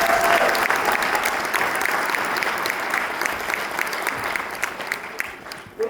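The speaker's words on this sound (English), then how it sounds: "Give them a round of applause." Sustained audience applause for school choruses at a Martin Luther King Jr. tribute event in Manchester Township, dense steady clapping filling the room for several seconds before fading out at the end.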